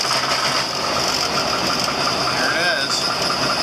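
A machine engine is cranked over and started, then runs close and loud with a steady, slightly knocking mechanical drone.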